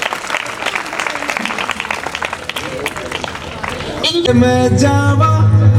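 Applause breaks out at a Constitution Day celebration as guests are welcomed to the stage, rising to a crowd of clapping hands while a voice speaks over it and music swells near the end.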